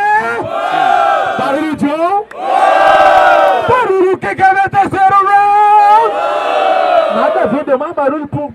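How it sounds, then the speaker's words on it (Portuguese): Crowd at a freestyle rap battle in São Gonçalo, Brazil, 2017, cheering and shouting loudly in rising surges with chanted bursts and a brief dip midway, close and dense throughout. "Barulho que gostou da rima do freestyle do MC John, rouba no centro."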